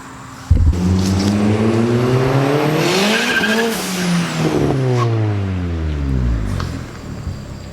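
A big-turbo 1.8T VW GLI accelerates hard and roars past close by, its engine note climbing through the gears with rising pitch. The pass is loud and continuous and fades as the car pulls away.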